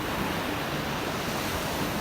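Ocean surf rolling in at Manly Beach in Sydney, a steady loud wash of breaking waves with a broad hiss and a rumbling low end, continuous and close, with some wind on the microphone and no talk.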